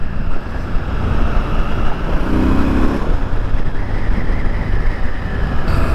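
Triumph Scrambler 1200 motorcycle being ridden, its engine a continuous rumbling drone mixed with wind rush, fairly loud and steady with a brief shift in tone partway through, no voices.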